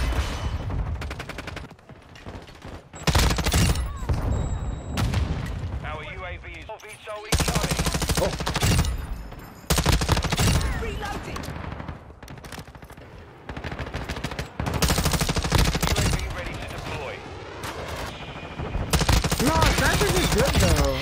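Bursts of 556 Icarus LMG fire in the video game Modern Warfare 2, with long rapid sprays and shorter volleys separated by brief gaps, loud and close, with occasional talk between bursts.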